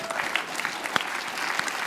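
Applause from an audience during a live online talk, a brief patter of scattered clapping with distinct individual claps, fairly faint and thin rather than a full crowd roar.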